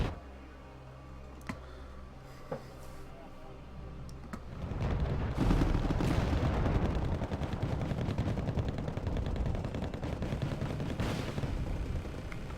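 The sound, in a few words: incoming mortar fire in a video game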